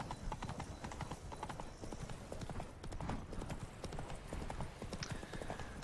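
A horse's hooves clop at a steady trot in the video game The Witcher 3: Blood and Wine, close and continuous, with faint game ambience behind the rhythmic footfalls.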